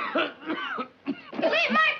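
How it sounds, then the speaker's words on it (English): A man in a 1955 film-noir crime drama coughs in several harsh, rasping bursts, close and fairly quiet, with brief gaps between the fits. "You cough up a lung."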